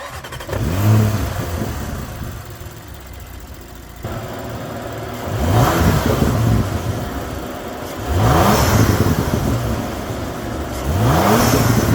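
A Porsche Macan GTS 2.9-liter twin-turbo V6 engine revs in three distinct bursts, each climbing sharply in pitch before dropping back to a steady idle, with a constant cooling-fan whir underneath.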